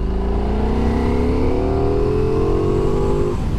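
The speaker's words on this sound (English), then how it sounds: "Let's do a roll-on pull, just to show you how this thing accelerates. Let's do fourth gear." Ducati Diavel V4 motorcycle pulling a fourth-gear roll-on from about 30 mph on a slight uphill, its engine note rising steadily and loud for a few seconds before easing off, with no talking.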